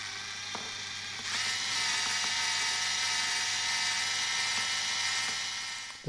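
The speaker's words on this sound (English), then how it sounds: "First thing to do is to remove that rivet." A rivet is drilled out of a Matchbox Lesney #64 MG 1100 die-cast toy car, with a continuous close, high-pitched whirring grind. It rises slightly in intensity after the first second and holds steady until it stops.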